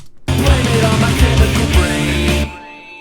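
A bright Moog-style synth line plays over a full band mix with pulsing bass, then cuts off abruptly and leaves a faint ringing tail.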